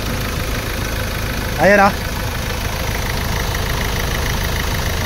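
A 2016 Ford Ranger suffering white smoke on cold start, its engine idling steadily and close by, with a brief spoken word partway through.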